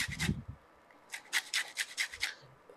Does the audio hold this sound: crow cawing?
no